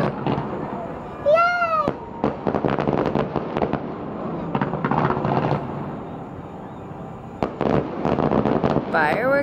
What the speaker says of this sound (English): Fireworks from our balcony.